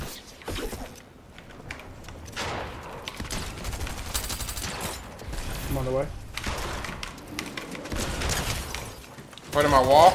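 Gunfire in a ranked video game match crackles in bursts amid a busy, dense game mix, with people talking over the shots throughout.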